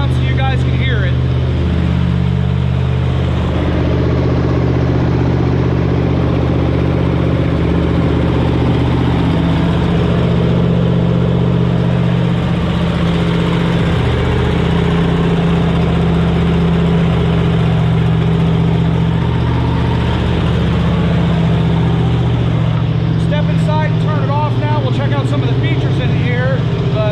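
A 1977 Cadillac Sedan Deville with a 7.0L V8 idles steadily for the whole stretch, a loud, continuous low rumble with a stable tone, heard close as the listener moves around the car.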